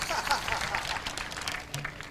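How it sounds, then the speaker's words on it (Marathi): Brief, moderate applause from the audience at a Marathi kirtan program, a scattered round of many hands clapping that fades slightly over two seconds. "त्याच्यासाठी टाळी वाजवा"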